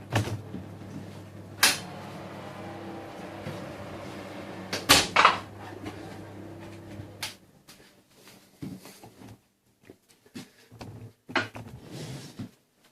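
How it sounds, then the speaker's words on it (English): A home oven door opens with a few dull clunks and a tray of gluten-free Yorkshire puddings is pulled out, over a steady low oven hum, followed by quieter scattered handling knocks. "I'm going to move you back, open up the oven,"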